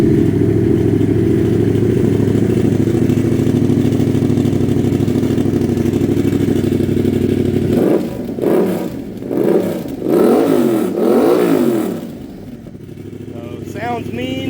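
A 2019 Yamaha MT-07 motorcycle fitted with an SC Projects exhaust idles loudly and steadily up close, then blips its throttle in several short, rising revs before settling back.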